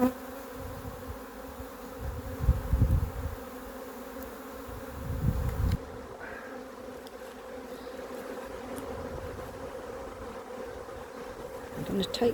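Honey bees swarm around an open nucleus hive being moved up into a full-size box, their close, steady buzzing filling the air, with a few soft knocks from handling the hive parts.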